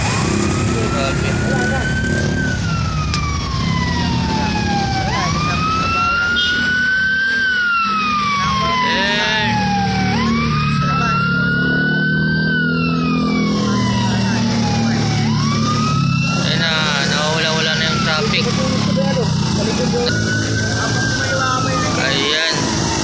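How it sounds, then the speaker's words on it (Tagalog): A wailing ambulance siren rises and falls repeatedly as it passes nearby in Pasay City, over engine rumble, traffic noise and people talking. "may sumusunod pa na ambulansya."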